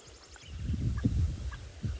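Egyptian geese give a run of harsh, honking calls in a wild outdoor setting, with several bursts close together at moderate loudness and no voices.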